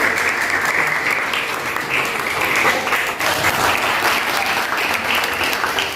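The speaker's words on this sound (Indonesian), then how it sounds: "tepuk tangan buat Rebecca" A classroom of students claps for a classmate in an Indonesian school lesson, a steady burst of many small hands that stays fairly close and even for several seconds.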